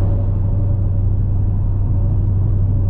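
A Dodge Challenger Hellcat at a drag strip gives off a steady, deep engine rumble heard from close by, with an even, unbroken low drone that does not swell or fade over the three seconds.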